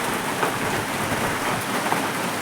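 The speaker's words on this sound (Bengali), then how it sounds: "আমাদের এখানে প্রচণ্ড বৃষ্টি হচ্ছে" Dense, steady downpour of heavy rain drumming on surfaces, loud and continuous with no voices.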